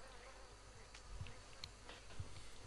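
Flies buzz around a turtle in the Red Dead Redemption II video game, a faint continuous insect drone with a few soft knocks, no talk.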